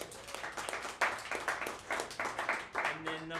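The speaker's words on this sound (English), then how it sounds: "let's give him a round of applause" A small group at an evening goal-setting meeting claps for an award recipient, sparse, distinct hand claps in uneven bursts, fairly quiet and close.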